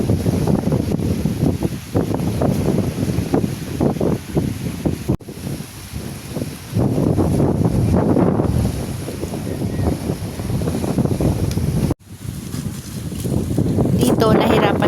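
Strong wind at an island campsite buffets the microphone in heavy, continuous low rumbling gusts, with brief drops and voices faintly mixed in beneath the roar.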